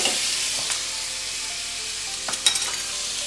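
Steak sizzling steadily in a hot pan, a continuous bright hiss with a few sharp pops and clatters around the flip, close and fairly loud with no talking.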